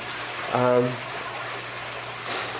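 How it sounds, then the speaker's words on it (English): Water feature beside a backyard pool at a golf-course home splashes in a steady, close hiss. A voice speaks briefly early on, and the splash swells slightly near the end. "You do have your water feature right here."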